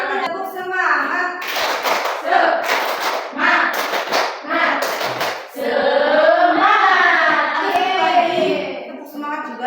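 A group performs tepuk semangat, a chanted clapping routine, with sharp bursts of rhythmic hand claps interleaved with voices chanting together, close and loud, ending in sustained group vocal chanting.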